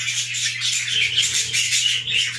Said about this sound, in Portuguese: Aqui nesse ninho tem 2 filhotes bem novos ainda e 3 ovos.